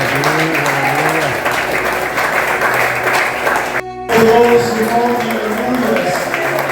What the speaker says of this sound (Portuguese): Pode aplaudir o Senhor aqui.